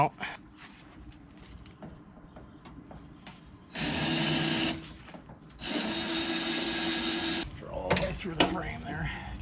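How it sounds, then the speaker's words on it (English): Two loud bursts of a power drill drilling through the frame while installing a cab on a Belarus 250AS tractor, about one and two seconds long, with a short pause between them, over low background noise and faint handling sounds. "Alright, drill them out."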